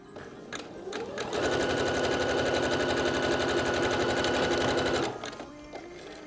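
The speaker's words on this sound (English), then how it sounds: "I've got my machine set up to a zigzag stitch here because that allows it to stretch." A sewing machine runs a zigzag stitch over stretch elastic, starting with a few slow stitches, then a fast steady rattling run of about four seconds before slowing and stopping, close and clear.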